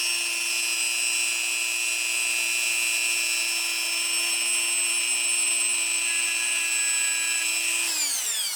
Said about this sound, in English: this is the typical drum that I use in the Dremel, but this is the smaller one